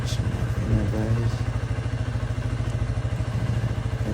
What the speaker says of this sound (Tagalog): Bumukas yung makina guys.